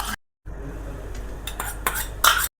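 A spoon scrapes and clinks against a pan while masala is stirred, a few short metallic taps and scrapes after a brief silence, close and fairly clear.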